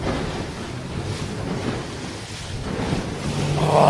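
Rough ocean waves wash and rumble continuously around a racing boat during a championship sailing race, with wind noise buffeting the microphone and no talk.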